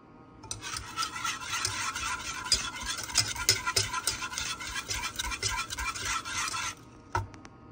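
Egg yolk white sauce stirred constantly in a saucepan over very low heat, a steady close rasping scrape of utensil against pan that runs for several seconds, then stops.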